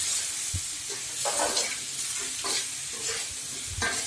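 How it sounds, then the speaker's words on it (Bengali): Spices being stirred as they fry in a pan for a catfish curry, with steady close sizzling broken by a few scraping stirs of a spoon against the pan, no voices. "এখন আমি নাড়াচাড়া করছি"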